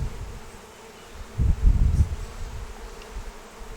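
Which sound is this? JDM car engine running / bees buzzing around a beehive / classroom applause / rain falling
bees buzzing around a beehive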